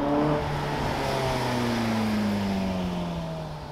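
A Ferrari 458 Spider sports car revs loudly and close by, its engine note holding a steady high drone with tones that slowly drop and glide over almost four seconds, with no talking.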